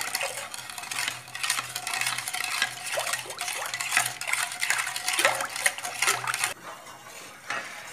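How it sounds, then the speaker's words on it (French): Metal utensil scraping and clinking against a saucepan while stirring a thickening pudding custard mixture on the stove, quick repeated close strokes that stop abruptly near the end. "puis mettre au feu, tout en continuant à mélanger jusqu'à ce que le mélange s'épaississe."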